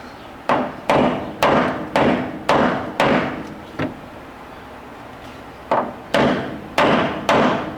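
Sharp, loud hammer blows strike in a steady rhythm on the trunk floor metal of an abandoned 1956 Chevy, about a dozen hits with a brief pause midway, ringing with a slight metallic edge.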